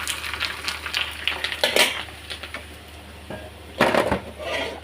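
Colored papads fry in a hot pan, crackling and sizzling up close, with a few sharper scraping and clattering bursts against the pan scattered through.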